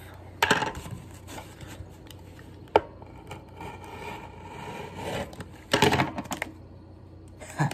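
A knife scrapes and pries at the plastic packaging of a Nintendo Switch microSD card, close quiet scratching broken by a few sharp clicks and crinkling bursts, with no talk.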